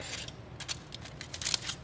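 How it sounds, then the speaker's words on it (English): Scissors snip through a sheet of aluminum foil in several short, crisp cuts, close and fairly quiet, with a faint metallic crinkle between snips. "So I'm going to take some scissors and I'm going to snip"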